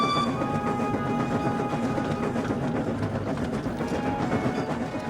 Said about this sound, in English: On the main line, Thompson was having a grand time pulling his goods train.